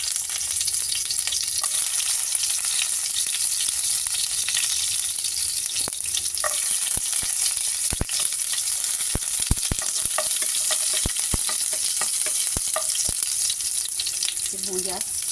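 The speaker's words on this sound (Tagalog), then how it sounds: "pag mainit ng ating oil, atin nang ilagay ang ating bawang" Garlic fries in hot oil with a loud, dense, continuous sizzle up close, punctuated by sharp clacks and scrapes of a spatula stirring the pan.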